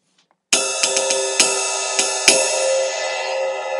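A large ride cymbal on a drum kit is struck several times at an uneven pace, each hit adding a bright metallic ping over a long, shimmering wash that rings on without fading out.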